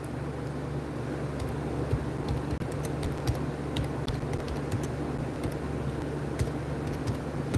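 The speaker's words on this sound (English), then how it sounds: "Can't really see what I'm typing because it's all dark" Irregular clicks of typing on a computer keyboard, soft and scattered, over a steady low engine-like hum.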